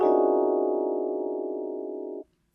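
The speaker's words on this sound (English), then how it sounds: "And very dissonant sounds like this." A very dissonant chord sounds at once, its clashing tones beating and wavering as it sustains for about two seconds before cutting off abruptly into near silence.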